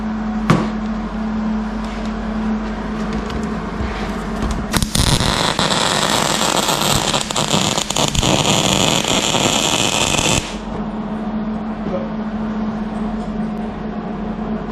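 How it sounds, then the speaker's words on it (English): A MIG welder runs on an accelerator pedal with shielding gas. A steady, harsh crackling hiss lasts about six seconds over a low background hum, then cuts off, leaving the hum alone. "We'll get her welded up so we can call that portion of it done"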